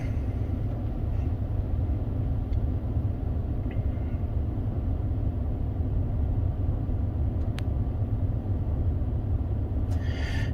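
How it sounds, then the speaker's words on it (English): A truck engine idles steadily on a cold day, a low continuous rumble that holds unchanged for the whole stretch with a few faint clicks on top and no talk. "If you don't have the truck running like I do because it's cold out"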